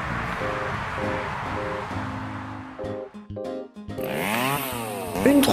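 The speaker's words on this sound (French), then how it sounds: "Une tronçonneuse qui émet autour de 100 décibels se situe déjà dans le haut de la zone de gêne." A chainsaw runs close and loud, its engine revving in steady pulses, dropping briefly, then rising again in sweeping revs. It is a chainsaw of around 100 decibels.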